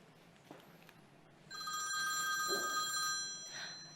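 A telephone starts ringing partway through with a steady, bright electronic trill. It is fairly loud and continuous after a short stretch of faint background hiss, with no talking.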